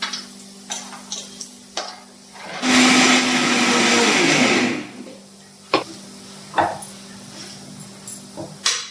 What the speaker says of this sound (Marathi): चला त्याची साल काढून घेते आणि मग मिक्सरमधून बारीक काढते